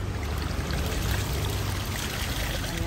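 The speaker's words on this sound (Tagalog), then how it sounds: "At awa naman ng Diyos, may ulan naman." Rainwater pours steadily and heavily, collected for washing clothes after Typhoon Odette left no running water, a dense, continuous splashing rush close by.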